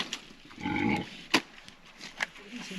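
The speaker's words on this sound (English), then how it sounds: "Pigs! They do love mud, don't they?" Pigs on a farm grunt and oink in a few short calls, with a longer, louder squeal near the middle and scattered grunts afterward, fairly close.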